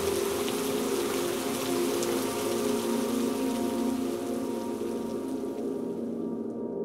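Steady rain pours down over a village on a stormy monsoon day in a Bengali horror cartoon, a dense even hiss of drops on surfaces that holds unbroken throughout with no voices.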